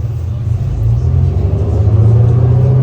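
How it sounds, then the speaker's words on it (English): A heavy CNG engine on a regional rail train rumbles loud and close with a deep, steady drone that swells slightly as it continues. "CNG engine noises go burr."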